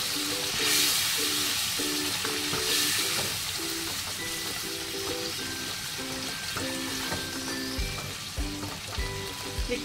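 Soaked paneer frying in a hot pan, sizzling steadily at moderate volume, with light stirring or clinking and a faint rhythmic tone underneath.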